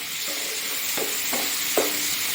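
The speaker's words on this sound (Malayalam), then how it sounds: "ഇനി നമുക്ക് തക്കാളി ഇട്ട് കൊടുക്കാം." Tomatoes fry in a hot pan for a tomato chutney, a steady soft sizzle broken by a few stirring scrapes, with no talking.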